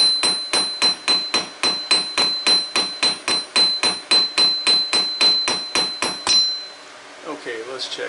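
Rapid, evenly spaced hammer blows ring out about twenty-one times as hot steel is peened during forging of a round and flat taper, loud and close with a metallic ring, before the strikes stop and the workshop falls quiet.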